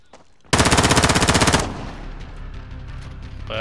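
A rapid automatic burst from Oreo's gun in the shooter game Black Ops 2 rattles out loud for about a second, then gives way to a lingering rumble and echo.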